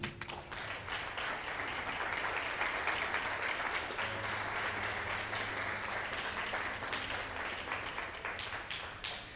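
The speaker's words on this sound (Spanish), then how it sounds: "Aplauda al Señor" Congregation clapping for the Lord during a church sermon, a sustained dense crowd applause holding steady for several seconds, moderately loud and slowly tapering toward the end.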